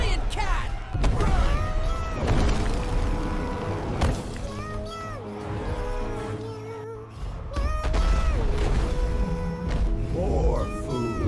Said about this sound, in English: It's a giant cat!